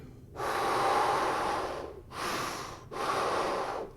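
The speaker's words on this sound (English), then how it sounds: "So when you practice deep breathing," Slow, deep breathing during a vocal breath-control demonstration: one long airy inhale followed by two shorter breaths, close and clear with no talk.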